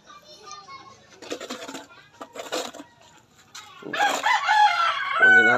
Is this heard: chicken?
yes